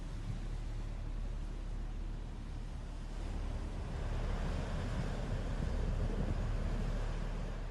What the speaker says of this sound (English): Water 30 feet high, gushing out of the earth.